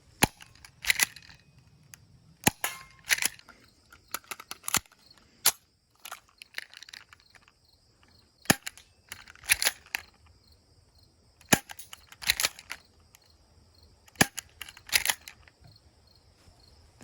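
A Walther PPQ airsoft pistol fires BBs at a distant target in a series of sharp, snappy cracks. The shots come in small clusters and pairs separated by short quiet gaps, close and crisp over a faint background hiss.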